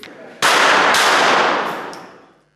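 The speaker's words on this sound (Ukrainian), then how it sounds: "Стріляли з бойової зброї" Combat weapons are fired at a competition event, producing a loud close blast that echoes and decays over about two seconds, with a second sharp report at the end.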